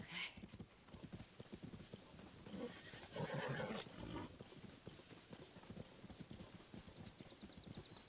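Steady clip-clop of horse hooves with a brief whinny, mid-distance, over a low background bed of game ambience, in a Zelda video game.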